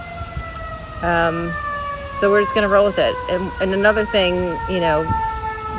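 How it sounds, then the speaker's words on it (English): A wailing siren rises and falls repeatedly in the background while a person keeps talking over it. "You can probably hear the sirens right now."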